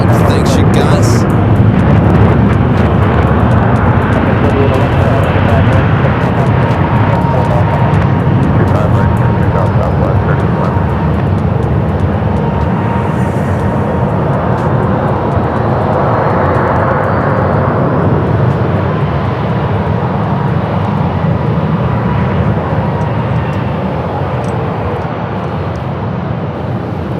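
Jet aircraft roar steadily at Phoenix Sky Harbor Airport, a loud, sustained engine rumble that swells and slowly fades as planes arrive and take off.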